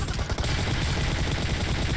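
Rapid automatic gunfire from the PUBG Mobile video game, a dense continuous burst of shots filling the two seconds at steady loudness with no talk.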